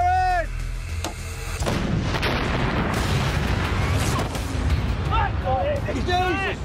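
An anti-tank gun fires at a simulated tank in Normandy, giving one loud, close blast followed by a long rumbling roar of the explosion, and excited voices shout over the aftermath.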